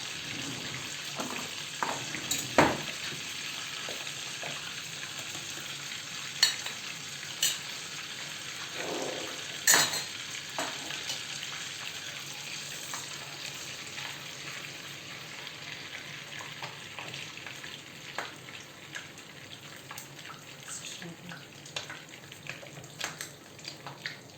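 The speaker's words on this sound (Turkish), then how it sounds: "tereyağı kabarıyor" Butter melting and foaming in a pan for Turkish yayla soup, giving a soft, steady sizzle with a few brief clinks and knocks, heard alone and fairly faint throughout.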